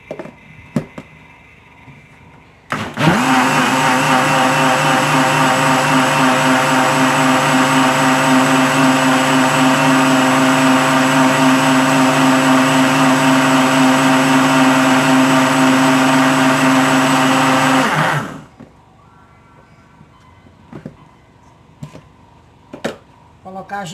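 An electric blender runs loud and steady for about fifteen seconds while mixing pudding ingredients with unflavoured gelatin, starting and stopping abruptly, with quiet clatter before and after.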